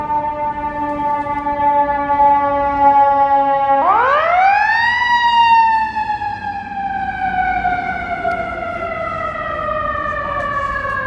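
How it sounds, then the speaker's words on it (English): An ambulance siren wails loudly on a Chicago city street at night, its pitch sweeping up sharply as it draws close and then gliding slowly down as it passes and moves away. "Let's get this ambulance going by."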